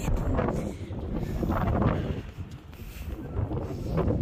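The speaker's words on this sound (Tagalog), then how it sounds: "Grabe hangin, ha?" Strong wind gusting on a bright, hot day, buffeting the microphone in loud, uneven rumbling surges that swell and ease over a few seconds, with no clear talk over it.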